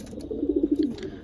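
A racing pigeon in a loft gives a short, soft, rolling coo of several quick pulses, close by and on its own.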